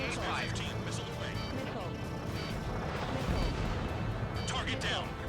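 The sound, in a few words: missile launch and explosions in Ace Combat video game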